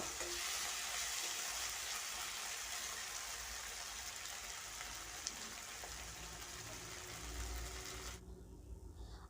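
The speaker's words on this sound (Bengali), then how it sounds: "এবার আদা রসুনের কাঁচা গন্ধ চলে যাওয়া পর্যন্ত আমি ভেজে নেব" Ginger garlic paste fries with onions in a pan, giving a dense, steady sizzle that stays loud and close for several seconds before cutting off sharply near the end.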